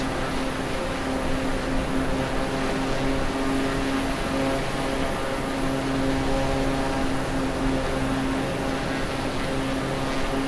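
Propeller aircraft engine in Microsoft Flight Simulator 2020 over Honolulu, a steady loud droning hum with a constant tonal whine that holds unbroken for the whole stretch, no talking.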